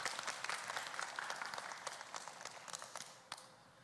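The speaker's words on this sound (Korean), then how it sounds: "박수 한번 부탁드리겠습니다" An audience at a cultural city planning meeting gives soft, steady applause with scattered distinct claps, heard at a distance and fairly faint throughout.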